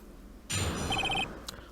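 A short electronic telephone ring trills once, bright and clear, followed by a brief click in an otherwise quiet space.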